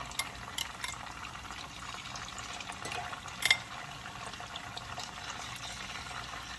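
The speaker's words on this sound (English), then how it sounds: "So if you've seen me cook tofu before, you know this is a gentle fry." Tofu cubes gently frying in a pan make a faint, steady sizzle with soft scattered crackles and one brief louder pop, heard close up with no talking.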